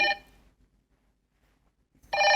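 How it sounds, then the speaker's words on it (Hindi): A telephone rings with an incoming call, two bright electronic ring bursts separated by a long silent gap, fairly close and alone. "बीच में हेडक्वार्टर से फोन भी आ रहा है।"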